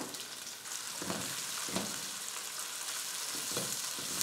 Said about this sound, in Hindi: इनको इसके अंदर डाल के इसको हम थोड़ा सा ब्राउन करेंगे